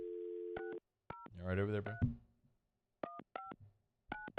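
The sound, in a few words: telephone dial tone during a phone call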